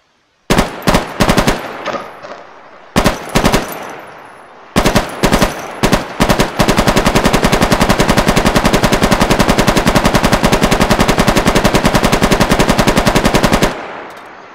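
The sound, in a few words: PKM machine gun firing, video game weapons mod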